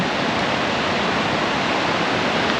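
Bond Falls on a river in the western Upper Peninsula roars as a steady, loud, broadband rush of falling water, unbroken and dense throughout with no voices.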